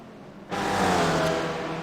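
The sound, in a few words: string of race cars in iRacing video game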